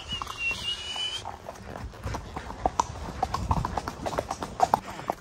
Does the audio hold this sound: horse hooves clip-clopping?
yes